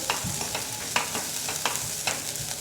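Sautéed vegetables for a soup crackle softly in a pan while a spoon stirs them, with regular scraping strokes about every half second over a low, steady sizzle.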